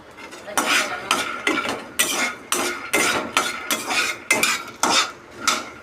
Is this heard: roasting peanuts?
yes